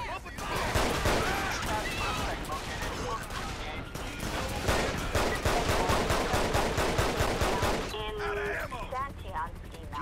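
Dense gunfire in the GTA V police mod LSPDFR, with rapid overlapping shots and bursts rattling continuously and loudly for about eight seconds before easing into scattered sounds.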